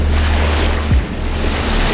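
Ocean surf rolls in at Fort Lauderdale Beach, a steady broadband wash with heavy low wind rumble across the microphone and one brief surge near the middle; no voices.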